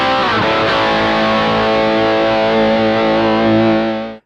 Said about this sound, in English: This is my wetter distorted sound, so it's got stereo chorus, reverb and delay on it